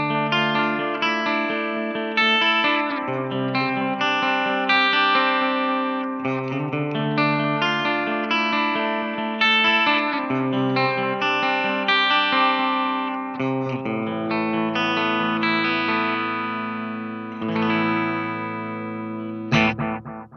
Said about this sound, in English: I've dialed it in on the 70s delay with about 5 or 6 audible repeats